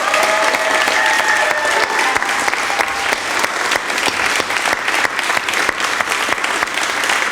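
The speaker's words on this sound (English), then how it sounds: "Can we get a huge round of applause for our support" A live concert crowd gives a long, loud round of applause for the support act, dense sustained clapping throughout with a few faint cheers mixed in.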